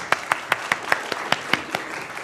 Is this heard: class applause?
yes